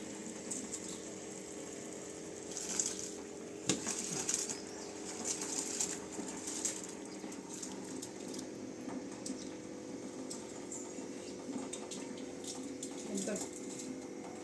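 A steady bubbling rush of water boiling in a pot for biryani rice fills the clip, with a low hum underneath and brief clatters now and then.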